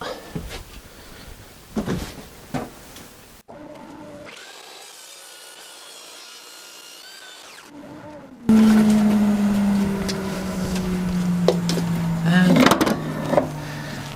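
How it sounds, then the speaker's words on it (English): A workshop vacuum runs beside a table saw fitted with a blade guard and featherboard. It gives a steady, even whoosh for several seconds before a louder, harsher power-tool noise joins in. "put the vacuum on."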